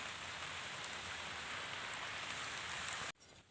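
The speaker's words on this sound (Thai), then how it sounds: "โอ้ยฝนกระตกแล้วพี่น้อง" Steady rain patters down in a forest in Phayao, Thailand, a dense continuous hiss that holds at even loudness before cutting off sharply near the end.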